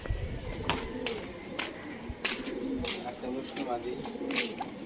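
A Mushki female pigeon coos repeatedly at close range among other birds, with sharp clapping or flapping bursts in a loose rhythm.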